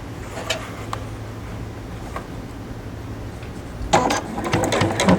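A sewing machine stitches cotton piping cord into a rope basket, its rapid ticking hum running faint and steady, then rising into a louder, busier burst of clatter near the end.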